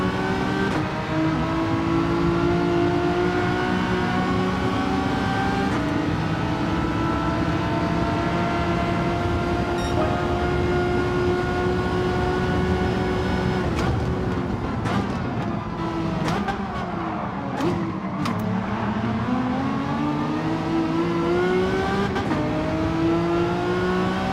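Lamborghini race cars in Gran Turismo 7 roar past in a multi-car race, sustained loud engine whine rising and falling with gear shifts, several cars overlapping with brief revving bursts near the end.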